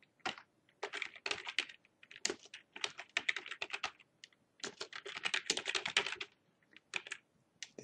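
Typing on a computer keyboard in quick, uneven flurries of light clicks with short pauses between them, close and fairly quiet, with no talking.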